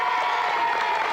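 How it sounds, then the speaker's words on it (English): A studio audience on a podcast applauds and cheers a guest, a brief, dense burst of clapping that stays steady throughout. "Give him a cheer."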